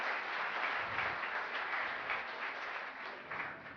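Applause from the audience at a school opening ceremony, a steady broadband wash of clapping that holds evenly for several seconds, moderately loud with no voices over it.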